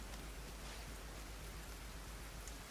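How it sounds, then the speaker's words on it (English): Steady rain in the video game Tom Clancy's The Division 2 hisses across the whole stretch, dense and even, with a faint low rumble underneath and no voices. "Might be just the rain effects."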